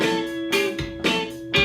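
An electric guitar plays a short rhythm part of sustained sixths, with two-note chords struck about every half second and left ringing between strikes.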